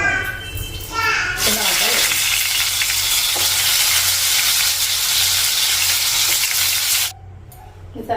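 Mustard seeds hit hot oil for a stuffed eggplant curry, setting off a loud, close, sustained sizzle that rises sharply and holds for several seconds before cutting off abruptly.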